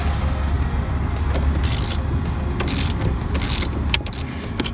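Ratchet wrench loosening a seat belt bolt inside a Volvo XC90, steady close mechanical clicking with several louder bursts of rapid ratcheting spread through the clip.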